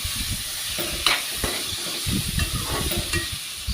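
Boiled beetroot being stirred into a frying pan of already-fried mixture, giving a steady sizzle with soft scraping and stirring strokes close by, heard alone without any talk.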